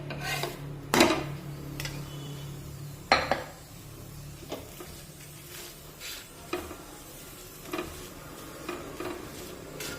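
Paratha with peanut masala frying in oil on a hot griddle, a soft sizzle under repeated scraping and clinks of a spatula against the pan, close and moderately quiet.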